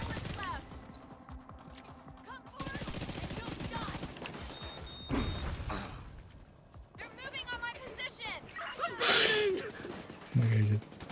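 Gunfire in the video game The Division, bursts of distant rifle shots and scattered volleys ringing out amid chaotic combat noise, with someone talking over the shooting and a game voice announcing alerts.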